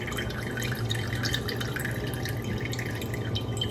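Water dripping and trickling from pressed cooked broccoli for a Southern-style broccoli casserole, a steady close patter running without a break, with no talking.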